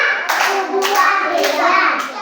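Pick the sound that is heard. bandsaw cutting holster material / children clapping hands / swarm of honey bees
children clapping hands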